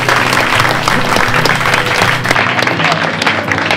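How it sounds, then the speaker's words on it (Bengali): Loud, dense applause from an audience at a Teachers' Day gathering, continuous clapping close and full throughout without voices over it. "সবাই একটু হাততালি দাও।"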